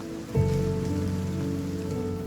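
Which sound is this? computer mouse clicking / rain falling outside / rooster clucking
rain falling outside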